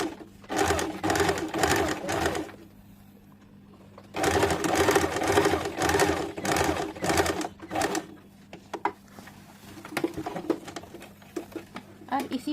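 A sewing machine stitches the side seam of a six-panel petticoat in two bursts of rapid, rhythmic clatter separated by a pause, followed by quieter handling sounds; a low cooing in the background resembles pigeons.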